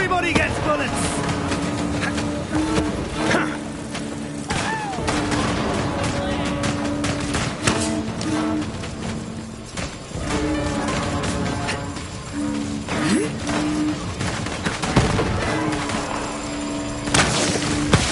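Rapid gunfire and booming blasts from a Borderlands 3 firefight fill a continuous, loud stretch, with bursts and explosions layered over music and a talking voice.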